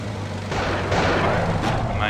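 Heavy main-gun fire booms out in a military video game, a couple of loud blasts with rumbling tails over constant engine noise.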